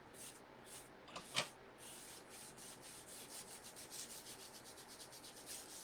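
A cloth wiping over a painted wooden board, producing soft, rhythmic rubbing strokes that start quiet, speed up into quick repeated swipes, close and low in level.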